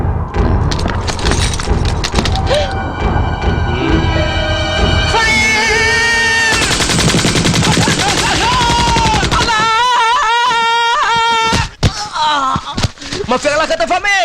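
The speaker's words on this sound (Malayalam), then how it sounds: "പടക്കം പൊട്ടിയപ്പോ ഞാൻ വിചാരിച്ചു എന്നാരോ വെടിവെച്ചിട്ടതാണ്" Firecrackers burst in loud, rapid cracking volleys during a Vishu celebration, mixed with music and shouting voices, the pops sharp and close against a dense, busy background.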